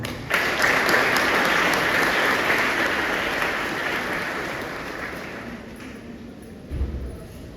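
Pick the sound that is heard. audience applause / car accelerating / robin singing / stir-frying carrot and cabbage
audience applause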